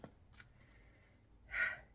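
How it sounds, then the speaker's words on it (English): A deck of cards is shuffled close by, with a few light riffles and taps followed by one louder, brisker burst of shuffling near the end in a quiet room. "You watch me shuffle."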